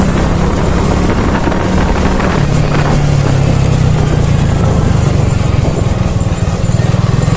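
A Suzuki Shogun 125 R motorcycle engine hums steadily while riding, a continuous buzzing drone mixed with wind noise, rising slightly in pitch toward the end.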